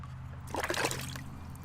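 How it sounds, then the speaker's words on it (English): Well water splashes briefly over a bottle cap being rinsed outdoors in the woods, a short trickle and splatter lasting under a second against a steady low hum. "This cap's a bit nasty, so I'm just gonna rinse it out with a little bit of water that I got out of the well."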